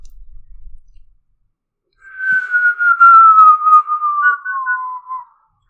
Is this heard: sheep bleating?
no